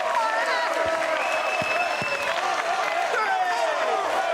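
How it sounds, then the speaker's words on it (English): Wrestling crowd at a Ring of Honor match applauding and cheering in a steady dense roar throughout, with scattered claps and shouts and faint commentary voices underneath. "Listen to the crowd."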